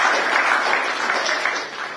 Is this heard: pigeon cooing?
no